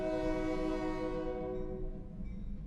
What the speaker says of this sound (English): we listen to the train go by